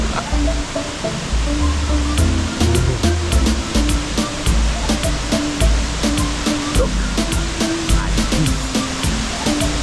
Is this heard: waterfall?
yes